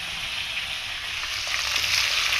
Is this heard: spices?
yes